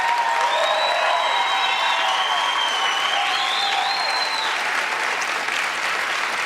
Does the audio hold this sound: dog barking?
no